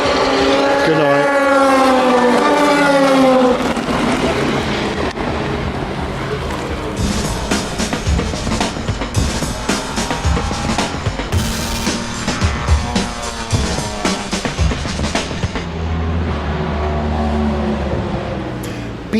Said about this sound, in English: I'm going to leave you with this because you can hear cars in the background now